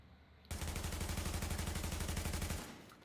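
An AUG A3 rifle fires in Tom Clancy's The Division, one sustained rapid-fire burst of about two seconds with evenly spaced, punchy shots that stops abruptly.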